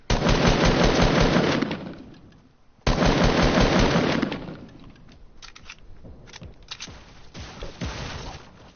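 Video game gunfire rips out in long, loud automatic bursts, two heavy volleys followed by scattered, quieter shots trailing off.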